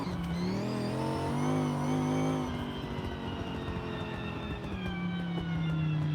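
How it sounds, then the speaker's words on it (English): A truck fitted with a race transmission and straight-cut sequential gears revs loudly in the Forza Horizon racing game, its engine note rising and holding, then falling and climbing again with steady gear whine throughout, and no talking. "you can hear, I do have a race transmission in this truck. So you can hear the sequential gears, or the straight cut gears"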